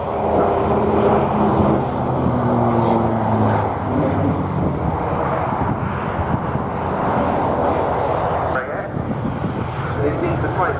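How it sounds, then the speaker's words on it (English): Hawker Sea Fury propeller aircraft at a Duxford flying display, a loud sustained piston-engine roar that rises and falls slightly, heard together with a commentator talking over a public address system. "this aeroplane would not be in front of us now"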